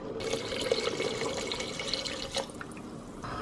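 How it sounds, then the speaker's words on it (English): Tap water pours steadily into a soup pot, making a continuous splashing and trickling sound close to the listener, with a few brief clinks and no voices. "I'm actually gonna add a few cups of water until I get it to the kind of like consistency that I want"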